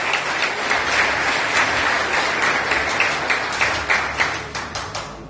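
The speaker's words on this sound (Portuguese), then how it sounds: "uma salva de palmas para a glória de Deus" A church congregation gives a loud, sustained round of applause to the glory of God, dense steady clapping close and full throughout with a few sharper individual claps near the end.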